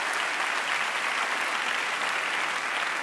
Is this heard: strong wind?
no